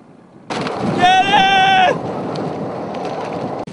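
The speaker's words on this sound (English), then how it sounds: "That was such a crazy gust of wind." A strong gust of wind hits a sailing boat, a sudden loud rushing roar that lasts about three seconds, with a brief high cry over it.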